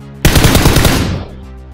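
A loud burst of rapid automatic gunfire from the PUBG video game, a dense rattle of shots lasting about a second before ringing off into a short decay.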